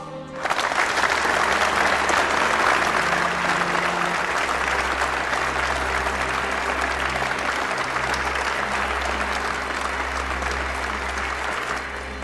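Sustained crowd applause fills a scene from the martial arts film Ip Man 4: The Finale, a dense, steady roar of clapping lasting over ten seconds over a faint low musical hum, with no clear talk.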